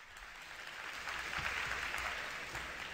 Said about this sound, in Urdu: محترم رضا علی عابدی، تالیوں میں استقبال کیجیے گا